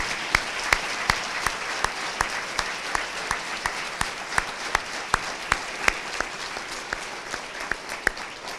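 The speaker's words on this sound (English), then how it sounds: "I'd love for you to join me in one more round of applause for David and our speakers" Dinner guests at a scholarship event applauding the speakers, a dense bed of clapping with one nearby pair of hands striking loud, evenly spaced claps roughly every third of a second.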